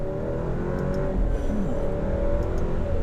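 A 2018 Alfa Romeo Stelvio Ti with a 4-cylinder engine pulling hard, a loud steady engine drone heard from inside with the pitch climbing as it accelerates, no talking over it.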